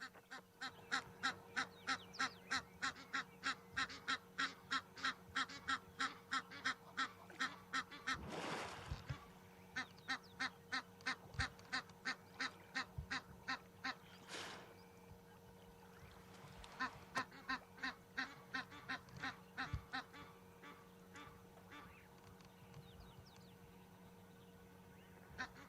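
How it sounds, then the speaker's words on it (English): Egyptian geese honk in long rapid runs of harsh, regular calls at a private game reserve, fairly distant and steady across the whole stretch, broken by a few short pauses and faint thumps. "Those noisy Egyptian geese at the back."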